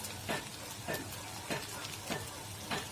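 Poha warming in a pan with chopped fresh coriander mixed in, a steady sizzle broken by five evenly spaced scraping stirs of a spoon against the pan, moderately quiet, no talking.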